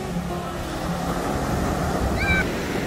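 Cold ocean surf washing up the shore at Laguna Beach, California, a continuous broad roar of breaking waves with wind buffeting the microphone, steady and close, plus a faint brief whistle-like tone near the end.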